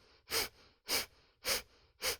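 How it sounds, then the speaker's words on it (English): Kundalini yoga breath of fire, a quick rhythmic breathing exercise, sounds as four evenly spaced, forceful airy puffs through the nose, each about half a second apart. The breaths are quiet and close, with no talking. "and you'll begin breath of fire"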